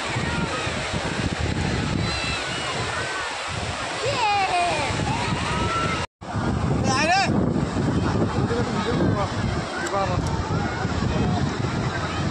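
Strong wind buffets the microphone on a hot, hot beach at New Digha, with roaring surf behind it; the rushing noise is loud and continuous, dropping out briefly midway, and people talk over it.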